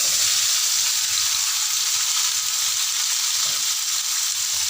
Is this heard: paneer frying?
yes